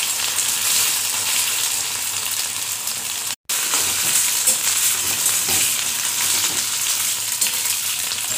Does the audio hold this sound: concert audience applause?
no